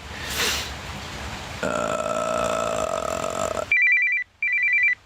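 A phone rings with two electronic ringtone bursts separated by a brief gap, preceded by a noisy rustle and a steady hum.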